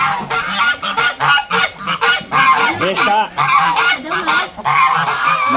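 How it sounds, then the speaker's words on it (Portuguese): Hungry geese honking loudly and repeatedly in a poultry yard among chickens, overlapping calls filling the whole stretch, with a brief spoken word underneath. "É só os esfomeados dos gansos mesmo que vem."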